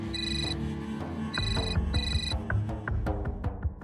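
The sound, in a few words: mobile phone ringing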